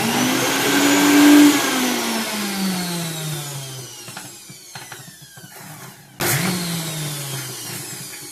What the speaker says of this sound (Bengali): এবারে এতে অল্প অল্প জল দিয়ে যতটা পারা যায় শুকনো করে বেটে নিতে হবে